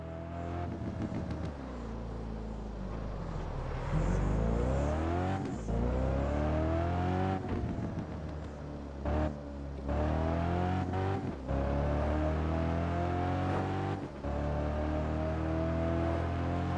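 Ferrari in the racing game Test Drive Unlimited 2, engine revving and accelerating through repeated gear changes, each climb in pitch cut by a brief shift, steady and fairly loud without speech.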